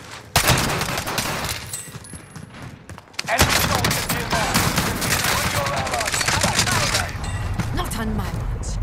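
Dense video-game gunfire crackles in rapid bursts and fusillades, nearly continuous with a brief lull before resuming loudly, while people talk over it.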